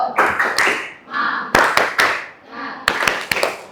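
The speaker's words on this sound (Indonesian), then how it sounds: "Tepuk semangat." A school audience performs a rhythmic spirit clap, patterned bursts of sharp claps alternating with chanted group voices, in three repeated phrases.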